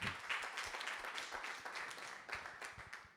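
Audience applause at the ASPEC 2023 general assembly honouring Denis Lopez, newly elected vice-president of external relations; a soft, steady wash of many hands clapping, fairly distant and low in level throughout.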